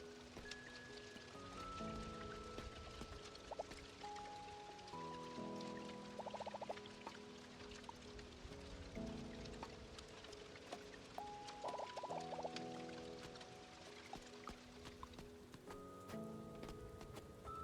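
Steady rain hisses on a surface throughout, quiet and unbroken, beneath tonal game music, with no talking.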